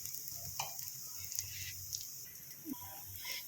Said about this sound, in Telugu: దీన్ని వెనక వైపు కూడా మనం వేగించుకోవాలి